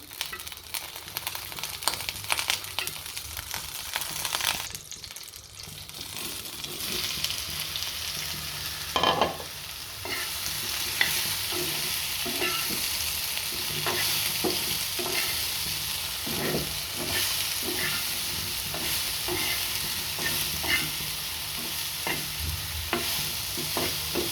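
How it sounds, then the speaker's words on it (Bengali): Soybean chunks fry in a little ghee with cumin and some white oil, a continuous close sizzle broken by scraping stirs of a spatula against the pan throughout. "এই যে সয়াবিনগুলোকে আমরা ঘি দিয়ে ভাজছি"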